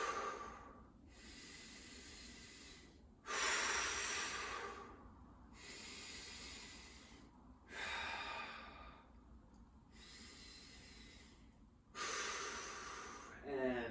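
Slow, deep breaths held during a core exercise with one leg lifted just off the ground, heard as three loud, breathy hissing exhalations spaced several seconds apart over a faint low room hum, with no talking.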